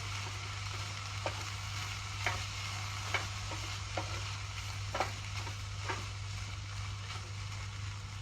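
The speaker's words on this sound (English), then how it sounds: "Let's just quickly give that a stir" Fried rice with soy sauce being stirred in a hot pan, regular scraping strokes about once a second over a steady sizzle and a low hum.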